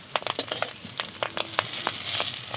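Fish roe fritters fry in a little oil, crackling and spitting with frequent sharp pops over a steady close sizzle.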